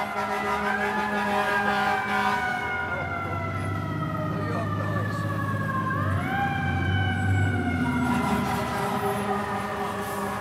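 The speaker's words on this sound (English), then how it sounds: "Now we'll wait until the sirens go by." Fire truck sirens wail with rising and falling tones over deep rumbling traffic, loud and sustained as the vehicles pass along a busy street in Times Square.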